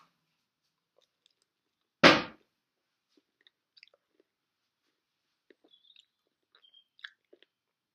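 A single loud, close crunching bite into washed, very sour citrus-like fruit with its peel on, followed by faint, sparse chewing sounds with no talking.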